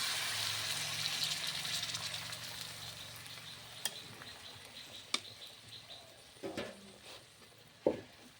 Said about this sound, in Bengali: এটা গরম জল দিচ্ছি।